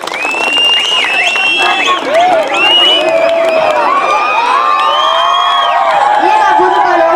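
An audience at a drama stage performance applauds and cheers loudly and continuously, with whoops and shouting voices rising over dense clapping as performers are welcomed.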